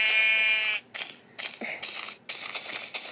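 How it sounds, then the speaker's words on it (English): Sheep bleating in Minecraft, a brown sheep: a long wavering bleat followed by several shorter bleats, loud and close, with no talking. "It's the brown sheep."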